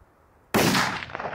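A single sharp rifle shot from a CZ 600 Alpha chambered in 224 Valkyrie, fired outdoors down into a canyon, cracks loudly after a quiet moment and rolls off into a fading echo.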